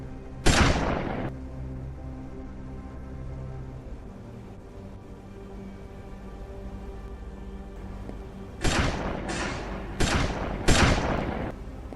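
Gunfire from a sniper rifle in a shooting video game: one sharp, loud shot with a lingering tail, a quiet stretch, then four quick close shots in a loose burst near the end.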